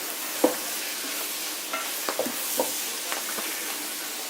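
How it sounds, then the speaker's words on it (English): Brussels sprouts with crispy bits sizzling in a pan while a utensil stirs them, scattered scraping knocks over a soft continuous frying hiss. "we're just going to have to stir around for a bit"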